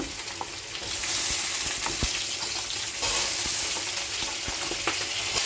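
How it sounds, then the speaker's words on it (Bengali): Vegetable stalks sizzle steadily in hot oil beside frying dorade fish, a loud continuous frying hiss broken by occasional stirring clicks and pops. "এবার আমি ডাটাগুলো দিয়ে দেবো ডাটাটাও ভেজে নেবো একটু"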